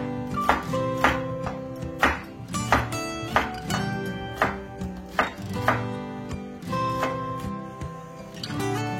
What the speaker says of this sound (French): moi je préfère découper à la planche